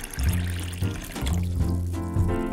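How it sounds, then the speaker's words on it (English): Soda pours from a bottle into a glass in a steady, close gurgling stream, broken by a few brief pauses as the pouring stops and restarts, with no talk over it. "Let me pour this into your glass for you"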